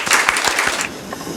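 Church congregation welcoming a pastor at a Korean autumn revival service, clapping fast and dense as a crowd, loud and close, then fading out after under a second.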